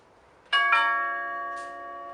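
A two-tone doorbell chimes twice in quick succession at close range, followed by a fainter third tone, the ringing tones sustaining and slowly fading in a quiet room.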